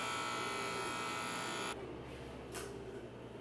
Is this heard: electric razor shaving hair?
yes